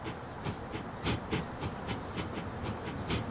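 A steam locomotive running in Transport Fever 2, giving a rhythmic chuffing and rail clatter with hissing steam, at a steady moderate level with no talk.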